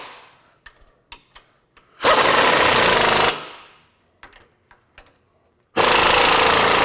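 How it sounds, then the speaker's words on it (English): A power tool tightens sway bar bolts and links during an off-road suspension lift kit install, firing in two loud, sustained bursts of about a second each, separated by quieter clicks and handling noises. "tighten up our bolts on our sway bar and to tighten up our sway bar links"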